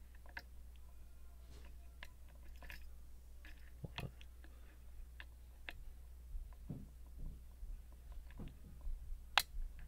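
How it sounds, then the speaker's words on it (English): Small, faint clicks come from a Miwa PS Japanese lock as it is picked. They are scattered and irregular, with a brighter tick near the end, over a low steady hum. "Little click from it."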